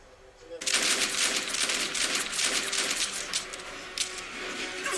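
Sustained automatic gunfire from a Westworld episode rattles on for several seconds at moderate distance, a dense burst of overlapping shots with no voices over it.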